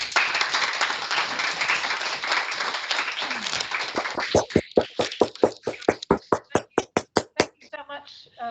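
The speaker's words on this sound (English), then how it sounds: "that was the virtual audience applauding" Virtual seminar audience applauding after an autumn academic talk: a dense wash of clapping that thins into a run of distinct, loud individual claps near the end.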